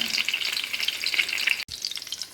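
Egg buns frying in hot oil give a steady close sizzle that runs the whole time, broken by one brief sharp gap, likely the flip onto the other side.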